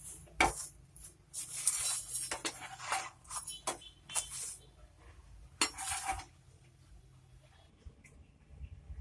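Rice roti being plated onto dishes, with repeated close clatter of plates and cutlery, irregular taps and scrapes in bursts that fade toward quiet at the end.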